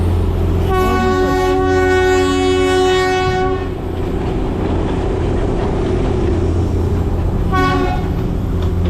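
The diesel-hauled Darjeeling toy train sounds its horn in a long, loud multi-tone blast and then a second short toot, over a steady engine rumble and the clatter of the moving carriages.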